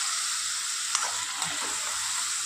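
Ginger garlic paste sizzles in hot oil with fried onion and tomato, a steady bright hiss punctuated by a few soft stirring clicks, close and continuous with no talk.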